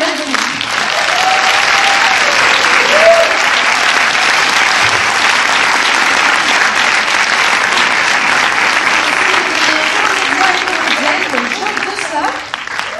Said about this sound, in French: Merci d'applaudir euh, les réalisateurs et réalisatrices Anne et Raphaël